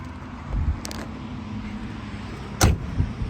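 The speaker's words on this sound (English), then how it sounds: "All the doors shut easy." The doors of a 1969 Chevrolet Camaro Z/28 shut twice with sharp thuds about two seconds apart, over a low quiet background with no talk.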